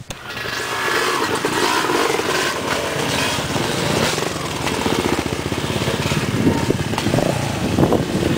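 A small motorcycle engine runs steadily and loudly throughout on a trail ride, with a rough mechanical rattle, close by and without pause.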